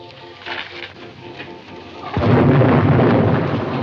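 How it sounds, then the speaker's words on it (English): Rain and a thunderstorm as a vintage 1941 film sound effect: steady hiss of rainfall, then a deep thunder rumble rolls in loudly and sustains over the downpour, with no voices. "can't you see the rain is going to ruin the act?"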